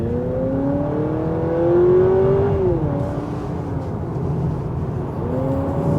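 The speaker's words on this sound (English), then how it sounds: "let me put it into sport mode, and stepping on it" A 2023 Honda Accord Sport Hybrid accelerates hard in sport mode, its engine note rising in pitch over about three seconds, briefly dropping as it shifts, then climbing again over a steady road rumble.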